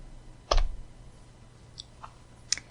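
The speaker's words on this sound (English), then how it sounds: "I might press the K on the keyboard," A computer keyboard gives one sharp, close key click, followed by a couple of faint, lighter taps in an otherwise quiet room.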